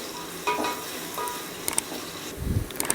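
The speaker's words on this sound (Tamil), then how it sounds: "வெங்காயத்தை நல்லா பொன்னிறமாக வதக்கி விட்டுக்கலாம்." Onions sauté in a pan for chicken biryani, a quiet, soft sizzle broken by a few spoon stirs and scrapes against the pan, close by, with no talking.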